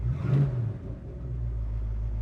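A 1970 Ford Mustang Mach 1 engine giving a short rev that swells and then settles into a deep, rumbling idle, close and alone.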